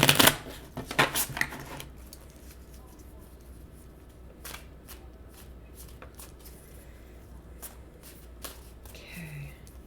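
A tarot deck, Wisdom from the Dragon Realms, is riffled in a quick burst of close, crisp shuffling at the start, followed by quiet room tone with scattered faint taps and clicks.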